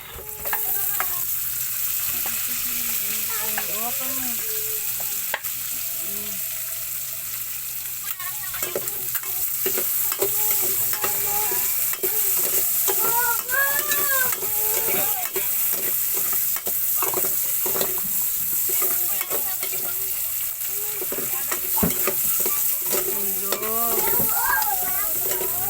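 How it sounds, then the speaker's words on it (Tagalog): Onions sautéing for pakbet, a steady sizzle in oil with frequent scraping and clattering of a utensil stirring against the pan, close and fairly loud. "Maglasa yung ating sibuyas"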